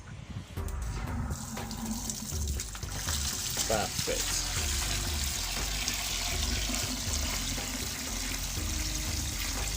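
Water runs steadily from a tap, splashing into a container for several seconds, with a brief spoken word partway through.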